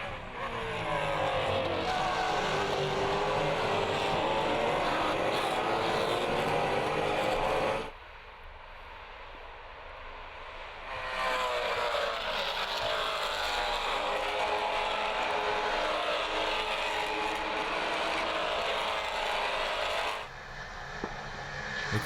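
Maserati Trofeo race cars lap the Road America circuit in 2015, their engines roaring loud and sustained, fading briefly as a pass recedes, then surging back with rising and falling engine pitch.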